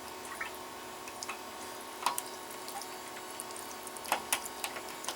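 Water trickles and drips slowly from a clogged water heater drain valve, soft sporadic drips and splashes over a faint steady hum.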